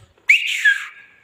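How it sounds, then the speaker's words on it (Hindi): One person gives a single shrill whistle, close and sustained for about a second, wavering slightly in pitch before tailing off. "तो सबसे पहले आप सीटी बजाओ बजाओ बजाओ।"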